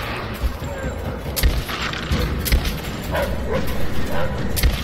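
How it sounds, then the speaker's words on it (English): Dogs bark in Rise of the Tomb Raider, with repeated yips and barks running through busy game combat noise and gunfire. A player talks over the action. "Shoot the dogs!"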